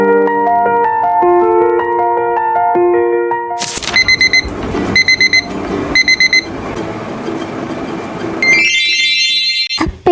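A morning alarm clock plays a loud, close melodic run of tones, then switches to bursts of rapid, piercing beeps repeated in clusters.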